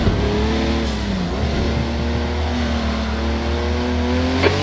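A Gr.5 race car in Project Cars 2 at Long Beach accelerates hard, its engine note rising steadily and loud through the gears, with a brief shift dip early on and continuous roar throughout.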